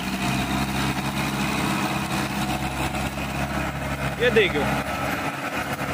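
Ace 450 tractor, 45 HP, running in low gear with a 7-foot Shaktiman rotavator, a steady low diesel drone throughout while someone talks briefly over it.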